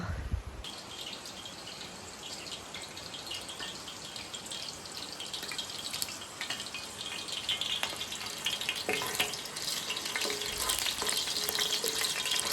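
Onions and garlic fry in olive oil in a wide paella pan, giving a steady, dense sizzle that builds slightly louder toward the end, with occasional stirring scrapes and no talking.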